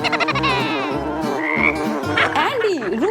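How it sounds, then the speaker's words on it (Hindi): A cartoon frog croaks in a run of rapid, rhythmic, throaty pulses. Higher chirping and warbling sweeps join toward the end, all loud and close with no talking. "एक साधारण मेंढक है, बस अलग वेश में।"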